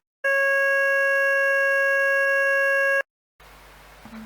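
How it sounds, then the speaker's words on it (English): A synthesized oscillator tone built to match the harmonic spectrum of a penny whistle, one steady unwavering pitch held for about three seconds, then stopping abruptly, followed by faint room noise. "I generated a tone with the same spectrum"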